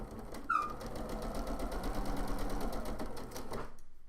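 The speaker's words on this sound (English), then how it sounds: "So I'm going to sew 1/4 inch either side." A sewing machine stitches a quarter-inch seam on a flying geese quilt block, its needle running in a fast, steady mechanical chatter up close before stopping abruptly at the end.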